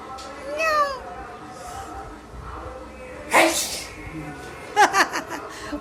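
Two pet cats give short, rising meows early on, followed by sharp sneeze-like bursts and laughter while people talk nearby.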